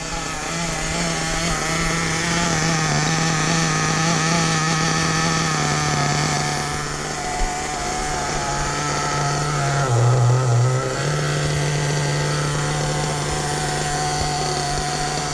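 Hobao Hyper VS2 nitro RC engine idling during break-in, a steady buzzing purr that holds throughout with a brief dip in pitch near the middle, close by with no talk.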